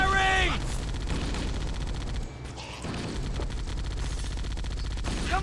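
Dense, continuous gunfire from a Halo video game battle, rapid automatic shots and bursts layered with game music and effects, loud and sustained for several seconds with a brief dip in the middle.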